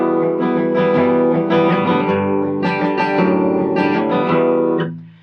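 Guitar walk-down with the low sixth-string bass note struck apart from the chord, heard as a series of clear, ringing plucked chords and bass notes stepping along before the sound cuts off.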